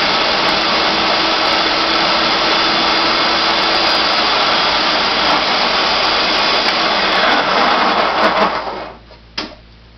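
A food processor grinds a raw coffee cake mixture of coconut oil, lemon juice and honey with a loud, steady whir for several seconds, then cuts off abruptly and whirs in one short final burst.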